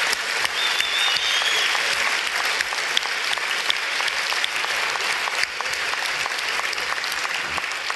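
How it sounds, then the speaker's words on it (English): A large audience applauds Professor Dawkins and Dr. Tyson after a debate, a long, even wash of clapping at moderate distance, with a few sharp individual claps popping out and a brief whistle early on. "another round of applause for Professor Dawkins and Dr. Tyson"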